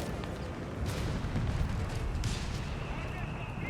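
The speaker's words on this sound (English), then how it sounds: "wants the massive artillery barrage instead" Artillery barrage in Company of Heroes 3 rumbles as a dense, continuous wash of booming gunfire, with a commentator talking over it throughout.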